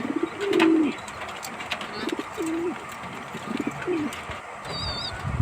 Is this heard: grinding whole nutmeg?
no